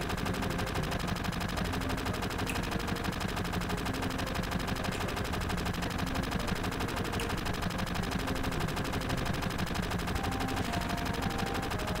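Dense, continuous rapid gunfire from a Final Fantasy VII cutscene, relentless automatic bursts layered over a steady loud backdrop without pauses.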